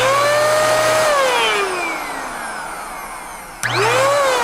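MaxShine mini handheld car dryer blowing filtered warm air, a loud close motor whine that winds down in pitch, cuts out, then snaps back on and spins up again.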